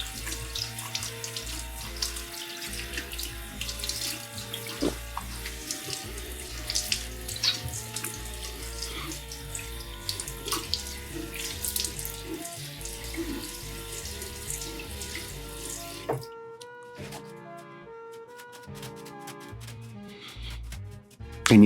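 Tap water runs steadily while a shaving brush is rinsed after a wet shave, a continuous splashing hiss that drops away near the end to a quieter trickle.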